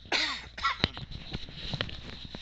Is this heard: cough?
yes